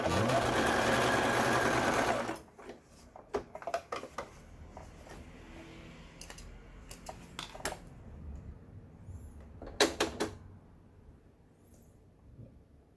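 A Brother XL5500 domestic sewing machine stitches wide test patterns, running loud and continuous for about two seconds before stopping, followed by scattered clicks and mechanical handling noises.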